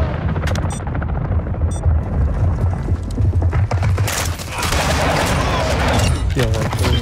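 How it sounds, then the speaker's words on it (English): Dense gunfire from Call of Duty Modern Warfare II, with sustained bursts and booms in a near, loud, chaotic barrage and a player's voice talking over parts of it. "Who's shooting at me?"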